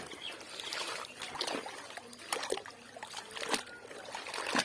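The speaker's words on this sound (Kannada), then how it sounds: "ಇಲ್ಲಿ ನೋಡಿ, ನಾನು ತೊಳಿತಾ ಇದ್ದೀನಿ ನೀರೊಳಗಡೆ ಹಾಕಿ." Brahmi leaves being washed by hand in a tub of water: soft, irregular splashing and trickling as leaves are swished and lifted, fairly quiet and close.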